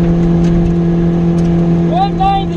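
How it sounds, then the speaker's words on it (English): A Ferrari on a race track runs with a loud, steady engine drone, then rising whine-like tones near the end as it climbs in revs. "And the engine roared with Caleb inside."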